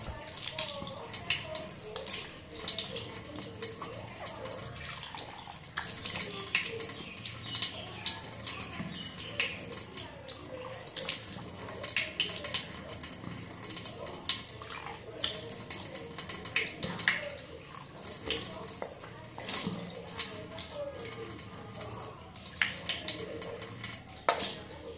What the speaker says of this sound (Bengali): মুখটা ভালো করে ধুয়ে নিই।